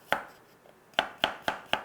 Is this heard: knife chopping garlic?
yes